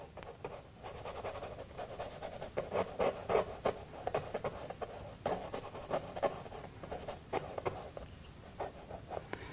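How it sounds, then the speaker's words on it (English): A brush scrubs watery acrylic paint onto canvas in quick, uneven strokes, a close, continuous rasping and scratching texture with fluctuating intensity and no voices. "how I'm just scrubbing it in."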